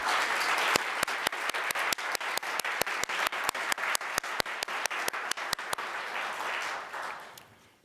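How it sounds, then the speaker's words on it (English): Sustained applause from a crowd at a human rights awards ceremony, dense clapping overlaid with a regular series of sharp, louder claps near the microphone, fading out at the end. "Let's give them a round of applause"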